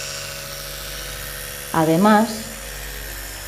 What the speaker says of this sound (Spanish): El cepillo eléctrico nos ayuda a estimular la zona orofacial, nos ayuda a proporcionar mayor sensibilidad